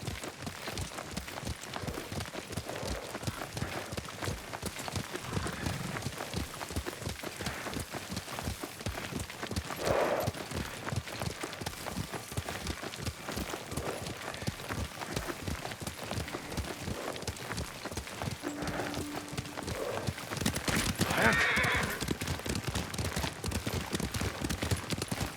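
Horse hooves pound in a fast, steady galloping rhythm throughout a ride in the video game Ghost of Tsushima, with soft wind and ambient game sounds beneath and no talking.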